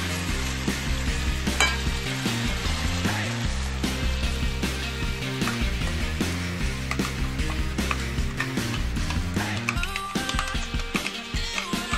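Masala paste hitting hot oil for dhaba-style chicken gurgles and sizzles steadily and close, with stirring scrapes, beneath loud background music throughout.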